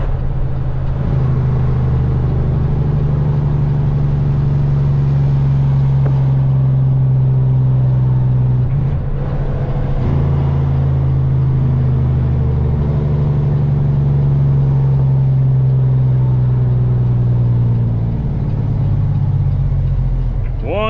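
A semi truck's engine idles and rumbles through its exhaust stacks, a steady, loud low drone that dips briefly and resumes, with someone talking intermittently over it.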